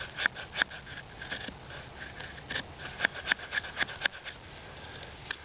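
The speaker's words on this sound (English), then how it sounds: "So just slightly scraping the knife on the surface of the wood here." A knife blade scraping across the surface of a piece of wood to raise shavings for a ferro rod fire, heard as a close series of short, uneven rasping strokes with no talking.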